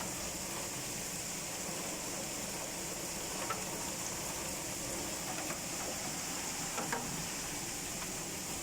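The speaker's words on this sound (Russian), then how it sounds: "Ливень с ветром." Heavy downpour with gusting wind pours as a steady, dense hiss throughout, with a few faint thumps or rumbles rising briefly near the middle and end.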